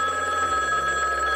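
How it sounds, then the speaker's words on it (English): A telephone rings with a loud, steady electronic trill, close and unbroken for the whole moment. "I think my phone is ringing."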